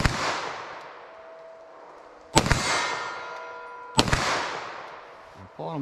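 Three loud, sharp 9mm +P Remington Golden Saber pistol shots fired outdoors at a range, spaced roughly two seconds apart, each cracking hard and trailing off in a long, fading echo.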